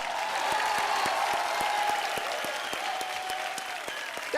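Steady, dense applause from a live television comedy show audience, loud and continuous throughout with a few sharper claps standing out, no talk over it.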